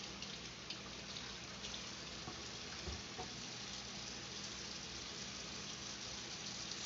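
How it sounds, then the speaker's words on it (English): Faint, steady crackling sizzle of food frying in a pan, continuous and low in level with no talking. "We got a nice sizzle going on."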